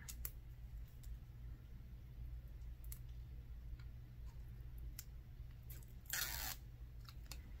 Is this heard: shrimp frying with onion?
no